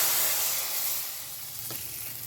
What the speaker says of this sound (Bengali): এবার যে তরকাটা আমি তৈরি করলাম এটা এর মধ্যে ঢেলে দেবো